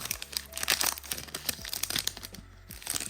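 Foil wrapper of a Star Wars Topps Bounty Hunters hobby pack being torn and crinkled open by hand, close and busy, a run of sharp crackles and rips with no talking.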